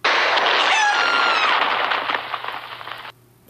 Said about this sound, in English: I killed a chicken!